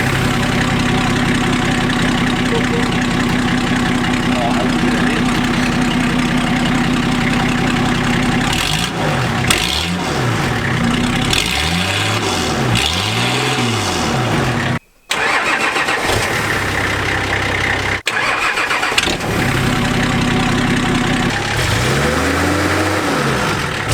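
A straight-piped, naturally aspirated Nissan Patrol TD42 diesel idles close by with a loud, steady, rough clatter, then gets blipped through several rising and falling revs, with a brief cut near the middle.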